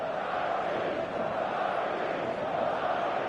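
Stadium crowd in a large arena from the football video game FIFA 25 on a clear evening, a steady dense roar of many voices filling the space without a break, loud and continuous.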